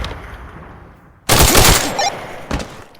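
A light machine gun fires in the Tactical Assault VR video game: after a quiet moment, a loud, close burst of rapid automatic fire lasts under a second, followed by a shorter burst.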